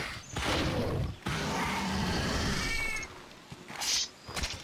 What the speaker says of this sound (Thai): เฮ้ยแมวตกใจเลย